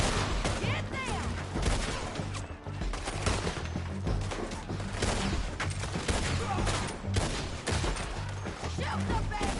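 Dense gunfire in the video game Red Dead Redemption 2, with rapid volleys and scattered shots over an ongoing battle, together with shouting voices and ambient noise throughout.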